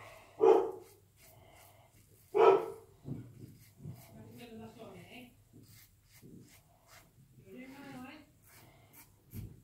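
Two loud barks from a male dog a couple of seconds apart, followed by people talking over a low hum with a few softer sounds.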